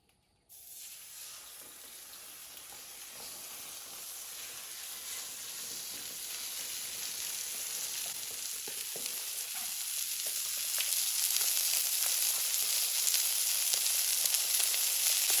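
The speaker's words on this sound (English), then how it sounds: "And you can hear it sears perfectly on the first side." A big piece of beef sears on a 30-inch two-burner gas griddle, giving a loud, steady sizzling hiss that starts abruptly and swells slightly over time, close and uninterrupted, with no voices.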